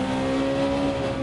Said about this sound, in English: Noisy exhaust.